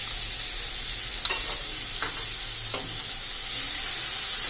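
Spice paste mixed with water hits hot oil for egg curry, giving a broad hiss that builds toward the end, with a few brief spoon knocks in between and no talking.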